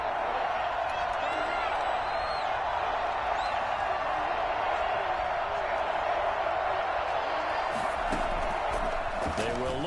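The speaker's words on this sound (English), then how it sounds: "The crowd getting into it as we come up on a big 3rd down." A steady stadium crowd roar from a Madden 21 football game builds ahead of a big third down, a continuous wash of cheering with a few louder bursts of clapping near the end.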